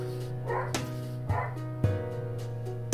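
A dog barks at the door several times in short bursts, indoors and moderately close, with brief gaps between the barks.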